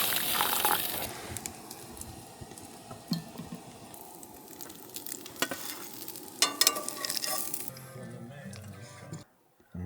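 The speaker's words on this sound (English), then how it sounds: "I'm making you an omelet, and I'm gonna make some scrambled eggs for myself." Eggs frying in a pan for an omelet and scrambled eggs at a campsite: a steady sizzle with stirring and utensil scrapes and ticks, fairly close, running nearly the whole time before a brief drop near the end.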